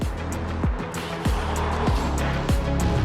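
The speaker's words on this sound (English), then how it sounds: "So now we are on the S-Class hybrid and we are driving electrically, smooth and comfortable." A 2021 Mercedes S-Class plug-in hybrid glides along on electric power, with steady cabin and road rumble and a low swooping tone that recurs about once a second.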